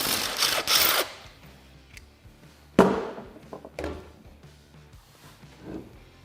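Front wheels and tires come off a Can-Am Defender side-by-side, with a burst of rattling tool noise, then scattered clanks, taps and a sharp metallic knock, close and uneven.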